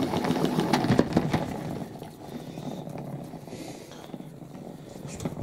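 A salad spinner whirls a load of washed face masks in a quick burst, giving a steady mechanical whirring and rattling that is loudest at first and then eases off.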